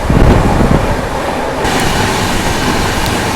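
The 12027 Shatabdi Express from Chennai Central to Bengaluru rushes past at speed, close by, producing a loud, sustained roar of wheels and wind with rattling carriages.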